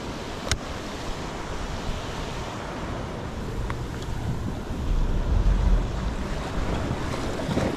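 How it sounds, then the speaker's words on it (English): Big ocean swell surging at a rocky shoreline, a continuous loud wash of surf with wind noise buffeting the microphone, building to a heavier rush partway through. "Ooh, big swell."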